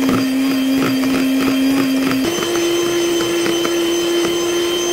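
An electric mixer beats putu ayu batter, giving a loud, steady motor whine that steps up slightly in pitch partway through and runs continuously with no talking.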